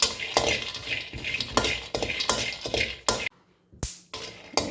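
Almonds frying in a pan while a spoon stirs them in quick repeated scraping strokes over a sizzling background, with a short pause near the end before the stirring resumes.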